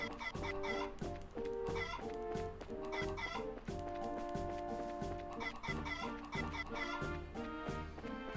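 Chickens cluck in the game Trails in the Sky SC, with short repeated calls set over steady, loud game music that runs the whole time.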